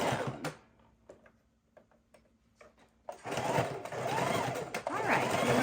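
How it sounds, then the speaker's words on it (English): Sewing machine back stitching scrap fabric: after a quiet stretch of soft clicks and handling, the motor starts up and runs in a steady, rapid close mechanical whir for the last few seconds. "I'm going to back stitch here a little bit because we did run out of thread"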